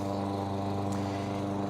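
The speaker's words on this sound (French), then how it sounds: "quelqu'un qui passe à la tondeuse" Lawn mower running nearby, a steady droning engine hum with a constant buzzing tone throughout and no voices.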